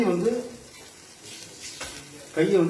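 Dosa batter frying in oil on a hot pan, a soft crackling sizzle with a few stirring scrapes, while a voice speaks at the start and end.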